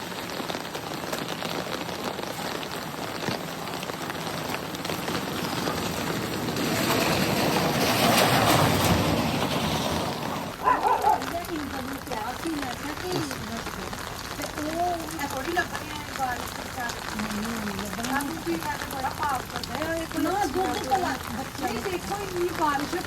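Steady rain falls on surfaces around a forest setting, a continuous hiss that swells briefly louder, with people talking over it for most of the stretch.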